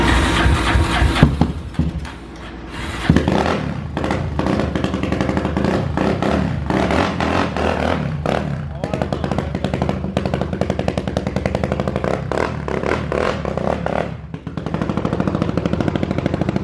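A freshly built 330cc motorcycle engine with an untuned carburetor runs loud and close, a rapid staccato putter that dips briefly, then resumes revving steadily.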